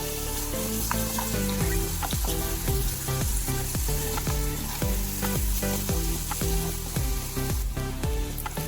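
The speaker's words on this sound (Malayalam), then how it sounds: "ഉള്ളി നന്നായിട്ട് വഴറ്റിയെടുക്കാം നമുക്ക്" Chopped onions sautéing with salt in a pan for a Kerala sadya lemon curry, a steady dense sizzle and fry hiss with repeated clinks of a spoon stirring against the pan, close and fairly loud, with no voices.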